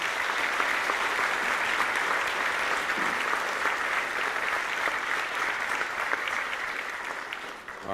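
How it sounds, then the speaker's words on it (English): A banquet audience at a technical school's student-of-the-year awards claps in sustained, dense applause that holds steady and fades slightly toward the end, with no voices over it. "So let's give them all one more round of applause."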